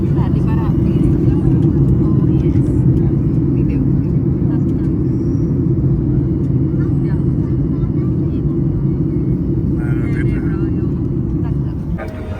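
Airliner landing on arrival in Gran Canaria, heard from inside the cabin as a loud, steady low engine and airframe roar that holds throughout, easing slightly at the very end, with people talking beneath it.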